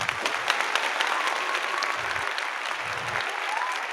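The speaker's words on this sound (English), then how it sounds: "Let's give him a round of applause." A round of applause on a talk show, with steady, close clapping from a small group that runs throughout, and a few deeper thumps underneath.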